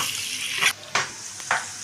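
Egg fried rice sizzles in a pan, close and moderately loud. Three short bursts of stirring rise over the steady hiss.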